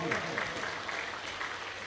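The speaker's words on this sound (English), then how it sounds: "Give them a round of applause." An audience at a graduation ceremony applauds steadily in a large room. The wash of many clapping hands is dense and even, heard from a moderate distance at a modest level.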